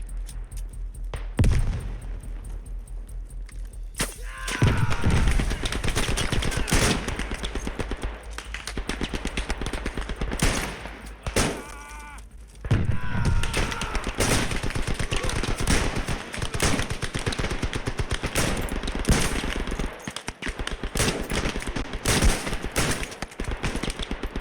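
Bursts of rifle and machine gun fire crack and rattle through Beyond the Wire, a WWI shooter, loud and close, with dense volleys, short pauses and a steady battlefield din.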